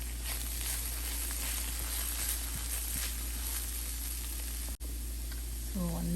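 Chili powder and coriander powder being stirred into sweet peppers frying in a pan, a loud continuous sizzle and hiss with faint stirring, ending with a short burst of voice.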